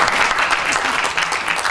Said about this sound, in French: C'est qu'on peut l'applaudir.